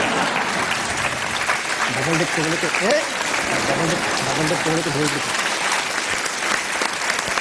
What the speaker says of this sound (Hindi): तालियां बजती रहनी चाहिए देवी और सजनों